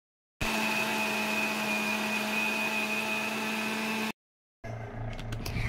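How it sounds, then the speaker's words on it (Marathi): A kitchen mixer grinder whirs loudly and evenly for several seconds as it blends garlic, sambar masala and cumin, then cuts off abruptly and a softer, different noise follows. "आता मी याला मिक्स करणार मिक्सरमध्ये"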